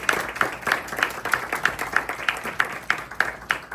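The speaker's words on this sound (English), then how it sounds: "Let's give these guys a big round of applause." Audience applause for the speakers at a recovery alliance talking event, a steady patter of many hands clapping with rhythmic peaks, moderately loud and sustained.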